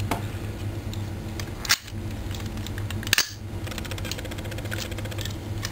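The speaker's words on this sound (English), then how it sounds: "Nice and tight and clicky, as you can hear." Plastic parts of a Garland toy figure snap into place with two sharp clicks, close and distinct, against a steady background hum.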